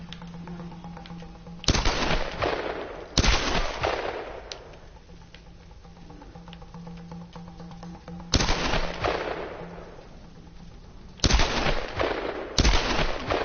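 Gunfire in the video game Tomb Raider: several loud bursts of rapid automatic shots come in clusters with quieter stretches between them, and a steady low hum runs underneath.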